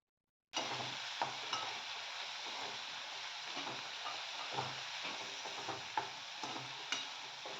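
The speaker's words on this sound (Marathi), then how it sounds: "इथे बारीक चिरलेले कांद्याची पात यामध्ये टाकून देऊया छान फिरून घेऊया" Finely chopped spring onion greens frying and being stirred in a pan, a steady close sizzle with light periodic scrapes and taps throughout, no talk.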